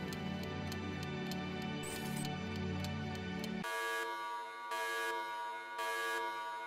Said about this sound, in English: Your alarm rings.